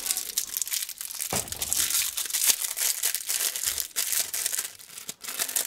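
Black HSS steel circular saw blades for a multi-function rotary tool, each individually wrapped, are pulled from their packaging with steady crinkling and crackling of plastic, punctuated by sharper crunches and tears, close and fairly loud with no talk.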